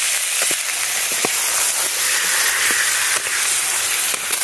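Meat hits a hot biryani pot already holding chopped onion, chilli and garlic, giving a loud, steady sizzling hiss with a few faint clinks and knocks throughout.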